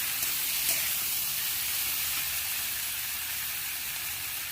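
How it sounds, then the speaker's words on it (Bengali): Fish sizzling in hot oil in a pan, a dense, even hiss close by that stays steady and fairly quiet, with no talking. "এবার মাছটা আমি দিয়ে দেবো, ওই পাশে নেড়ে মাছটা দিয়ে দেবো।"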